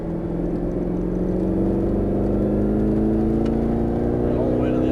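A Mercedes-Benz SLS AMG pulls out of a turn on a Las Vegas track, its engine droning steadily and climbing in pitch as it accelerates, loud and close throughout.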